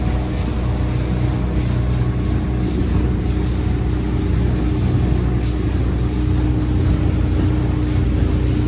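A Quicksilver 705 Open motorboat engine drones steadily at cruising speed, with a constant low rumble, water rush and some wind buffeting the microphone.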